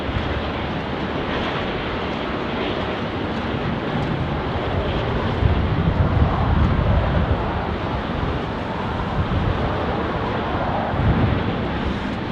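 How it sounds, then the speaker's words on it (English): A Velocity airliner takes off from runway 16 right at Sydney Airport with a broad, steady, distant roar that swells slightly midway, while wind buffets the microphone throughout. No speech is heard. "Velocity 1090, runway 16 right, clear for takeoff."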